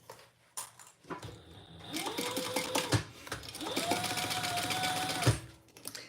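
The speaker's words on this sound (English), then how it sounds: "I'm gonna just top stitch." A sewing machine runs in two short bursts while top stitching, its fast whirring clatter rising and then stopping, with faint talk in the background.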